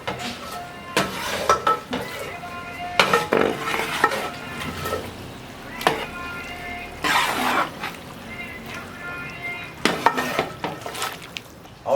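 Boneless chicken channa gravy, five kilos, being stirred with plenty of masala in a big pot, giving repeated scraping and clattering strokes with metal-on-metal clinks, along with occasional coughs and throat clearing nearby.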